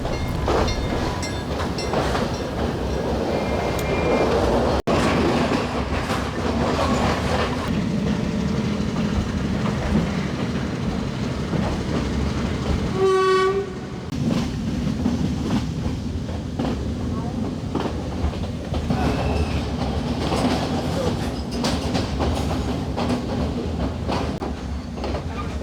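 A passenger train climbs a Sri Lankan hill railway toward the country's highest railway station, its carriages rumbling and rattling with rhythmic clatter throughout, while a voice talks over the steady noise.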